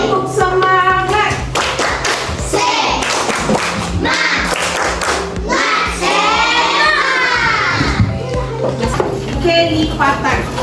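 Students in a primary maths classroom do a rhythmic group 'spirit clap', sharp patterned claps and thumps repeated over several seconds, mixed with children's voices chanting along.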